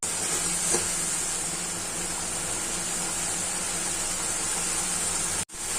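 Water poured into mustard masala frying in a pan for a puti fish curry raises a steady, close hissing sizzle that holds evenly and briefly cuts out near the end, with no talk.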